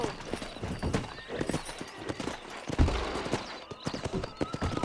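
Horses in a Red Dead Redemption video game: close, uneven hoofbeats clip-clop in bursts, with a horse's whinny breaking through, loud and busy over the full few seconds.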